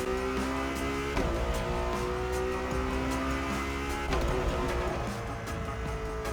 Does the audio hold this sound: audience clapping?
no